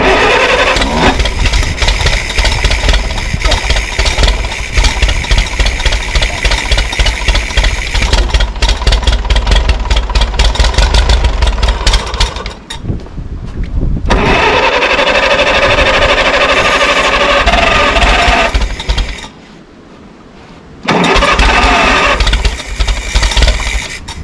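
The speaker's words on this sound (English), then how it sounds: "So then we work on getting the tractor running and started" A loud tractor engine runs roughly, stalls twice with brief gaps, and starts up again each time, rumbling close by with no voices.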